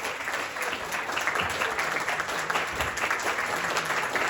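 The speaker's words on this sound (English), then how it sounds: "Another round of applause, please, for the father of the bride and the brother of the bride" Wedding guests applaud a round for the father and brother of the bride, a loud, continuous patter of many hands clapping with a few faint voices beneath.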